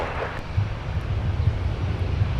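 Envoy airliner on its takeoff roll from runway 12 right at Minneapolis–St. Paul, a steady low engine rumble mixed with wind noise, heard from a distance and fairly even throughout.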